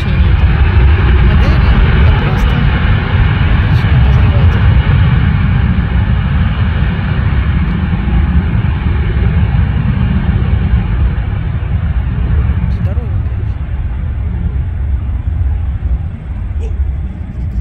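Jet airliner taking off at Minneapolis–St. Paul airport near the Mall of America: a loud, broad, continuous engine roar and rumble that holds steady and then eases slightly, heard from outdoors with people talking nearby.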